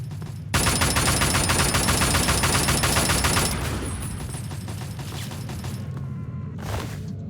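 Rapid automatic gunfire from a super mutant and a gun turret in Fallout 3 rattles loud and continuous for several seconds, then gives way to lower scattered combat noise and a final burst.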